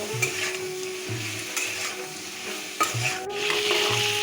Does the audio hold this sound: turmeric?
yes